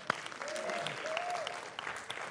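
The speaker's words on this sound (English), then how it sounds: "You can applaud." Applause rolls through a church audience, many hands clapping steadily at a modest distance while a few voices murmur and call out over the clapping.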